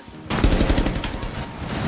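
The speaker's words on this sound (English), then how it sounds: "I gunned down Clayton." Rapid automatic gunfire in the shooter game Rainbow Six Siege bursts in suddenly and keeps rattling loud and close in a fast continuous volley, with no talking.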